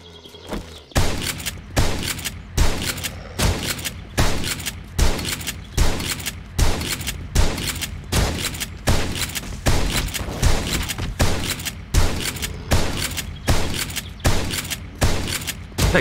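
Shotgun fire in the video game 7 Days to Die, a long run of loud, evenly spaced blasts roughly every half second to second, punchy and close with no talk over it.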